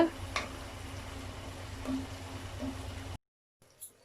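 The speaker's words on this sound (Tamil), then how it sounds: "இதோட பச்சை வாசனை போகிற வரைக்கும் நல்லா வந்து வதக்கிக்கோங்க" Masala for vegetable biryani sautéing in a pan, a soft steady sizzle with faint stirring that cuts off, then a brief knock.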